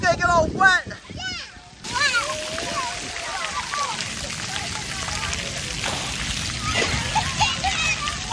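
Water splashing at a children's splash pad at Hill Ridge Farms in Youngsville, NC, a steady spray and patter running for several seconds beneath a voice and adult talk.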